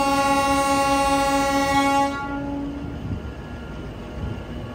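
Train pulling out of Banihal railway station in Kashmir, a loud sustained horn blast lasting about two seconds, then a lower rolling rumble of the train moving off.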